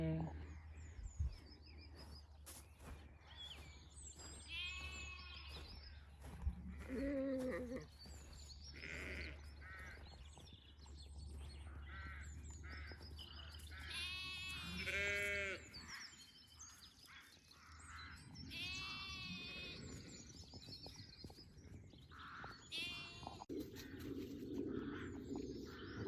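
Sheep and lambs bleat repeatedly on a dale farm during lambing season, several calls overlapping near and far across a steady outdoor background, with occasional bird calls mixed in.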